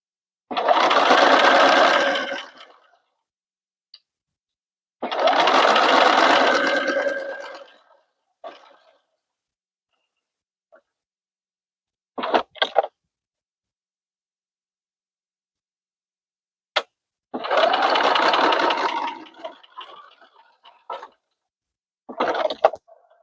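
Sewing machine stitching velvet shirt sleeve cuffs: three sustained runs of fast, steady stitching separated by quiet pauses, with a few short clicks and brief bursts between them, close and clear.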